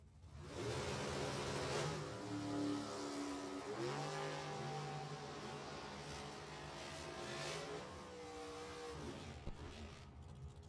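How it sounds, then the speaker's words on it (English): Drag race car with a 598 big block engine roars at steady high volume, its tones rising and falling over about ten seconds as it revs. "Absolutely a beautiful race car. Timmy Markoglu, 598 big block"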